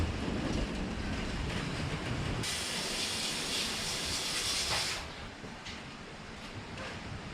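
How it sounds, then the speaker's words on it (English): Steady, harsh hiss of a small sandblaster blasting Toyota Land Cruiser 40 series bonnet bracket parts, loud and continuous, brightening sharply for a few seconds and then easing back to a duller rushing noise. "We'll just throw it in a little sandblaster, clean these up and give them a paint"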